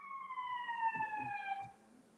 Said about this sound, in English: And I even got a siren for it.